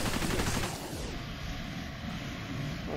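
Rapid gunfire in the game Cepheus Protocol, a dense continuous crackle of shots with a mechanical whine and hiss underneath, steady and fairly loud throughout.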